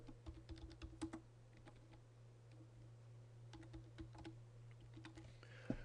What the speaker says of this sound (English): I'm just simply typing here.